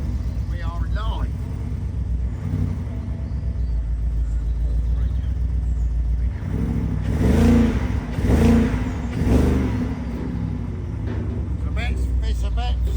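Big broken BMW diesel engine running rough near the listener, a lumpy uneven idle that swells into several rising revs in the middle before settling back, with people talking throughout.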